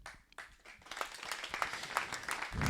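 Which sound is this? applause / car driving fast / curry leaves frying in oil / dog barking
applause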